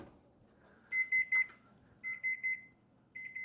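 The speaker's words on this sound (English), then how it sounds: "Turn off that obnoxious buzzer." A kitchen timer buzzer beeps in three short bursts of rapid pulses, each burst a quick triple, loud and close against a quiet room.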